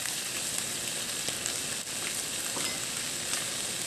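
Adobo chicken wings frying in a pan as cola is poured in, giving a steady, close, dense sizzle that holds evenly throughout with no talking.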